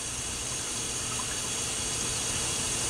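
Water runs steadily from a sink tap in a home darkroom, a constant close hiss and splash filling the whole stretch with no pauses.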